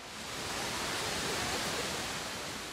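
A well-known waterfall in Mexico gives off a steady, full-bodied roar of rushing water that swells slightly and holds constant, with no voices over it.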